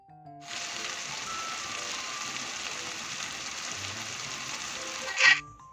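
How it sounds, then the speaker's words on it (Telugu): Tomato pieces fry in a curry in a pan, giving a steady soft sizzle at close range for several seconds, then a brief clatter near the end, with no talk. "టమాటా ముక్కలు అయితే మంచిగా వేగినాయండి"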